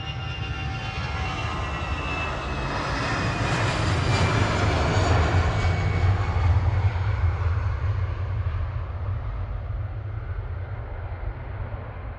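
EasyJet jet airliner departing Manchester Airport for Amsterdam at night, a broad steady engine roar that swells to a peak mid-way and slowly fades, heard from a distance with no voices.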